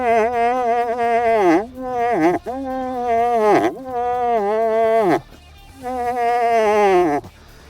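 A DUEL 2-in-1 moose call blown to imitate a moose estrus whine: four long, wavering, nasal whines with falling ends, close and loud, separated by short breaths.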